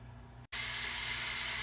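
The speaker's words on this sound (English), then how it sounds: "All right, guys, I know you hear that sizzle. Chicken's in." Ground chicken hits a hot cast iron pan and bursts into a loud, steady sizzle after a brief silence, the frying hiss continuing close and unbroken.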